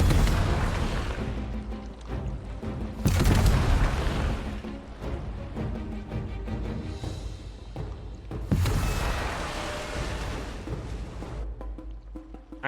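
A torpedo is launched and a ship explodes in the Humankind strategy game, with two heavy booming blasts several seconds apart over a continuous rumbling battle bed, loud and close, no talk.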